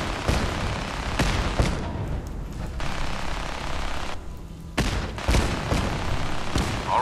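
Bursts of gunfire rattle in Fallout 4 combat during the Battle of Bunker Hill, with several rapid volleys broken by short pauses and close, loud shots over a steady background din.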